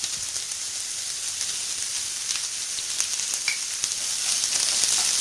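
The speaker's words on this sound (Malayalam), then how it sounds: "സവോള നന്നായിട്ട് വഴണ്ടി വന്നപ്പോൾ, നല്ല ബ്രൗൺ കളർ ആയപ്പോൾ ഞാൻ തക്കാളി കൂടെ ചേർത്തു" Chopped onions sautéing with salt in a pan as the base for an omelette, giving a steady close hiss of sizzling with faint crackles throughout, no voices.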